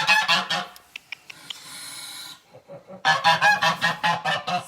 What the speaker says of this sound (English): So this one goose is pretty loud